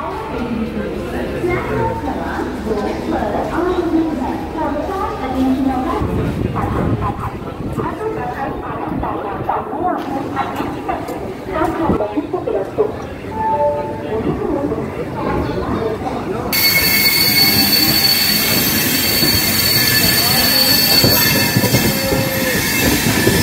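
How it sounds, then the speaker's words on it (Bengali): A train pulls out of Kharagpur Junction station, with rumbling wheels, clacking and squealing under continuous nearby chatter and talk. "তো আমাদের ট্রেন ফাইনালি ছেড়ে দিল খড়গপুর জংশন স্টেশন থেকে।"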